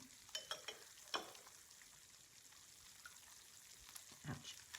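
Eggs sizzle and spatter in a pan where cheese is already browning around the edges, a soft steady frying hiss broken by a few quick taps and clicks near the start, faint and close with no talk.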